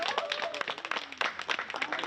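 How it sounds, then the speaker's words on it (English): A gathering at a Saturday company meeting in Concord claps hands, a dense patter of claps with voices chattering over it, moderately close and steady throughout. "clap your hands for our first time."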